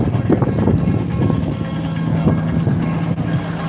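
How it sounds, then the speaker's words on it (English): A rat rod car pulling away at a Caffeine and Classics car show in Lutz, Florida, a loud rumbling engine drone with steady low exhaust tone under wind buffeting on the microphone. "Got this rat rod leaving."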